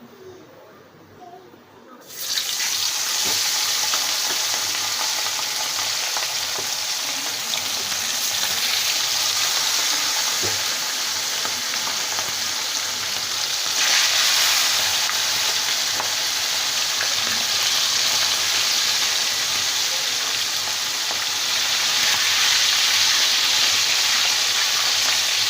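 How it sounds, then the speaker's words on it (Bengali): Pieces of fish hit hot oil in a wok and sizzle loudly, a dense continuous hiss that swells after a brief quiet start and keeps crackling steadily throughout. "এবার আমি মাছগুলো দিয়ে দেবো ভাজার জন্য।"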